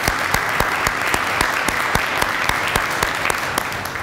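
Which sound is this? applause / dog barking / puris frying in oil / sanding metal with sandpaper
applause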